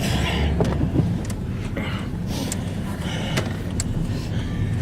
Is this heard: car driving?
yes